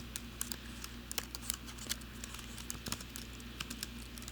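Quiet, close typing on a computer keyboard while writing Python code, a fast irregular patter of light key clicks with a few sharper taps, no voice.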